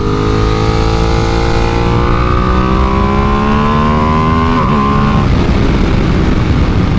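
A 2025 Ducati Panigale V2 motorcycle engine pulls hard under acceleration, its steady, loud drone rising in pitch through a gear before the tone breaks up into a rougher roar near the end.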